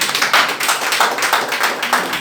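A church congregation claps in a steady rhythmic beat to acclaim the Lord, the sharp, fairly loud hand claps repeating with no voices over them.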